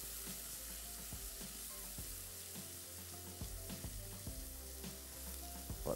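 Ground spices fry in a hot pan, crackling and sizzling steadily with occasional stirring knocks, heard close and fairly quiet with no talking.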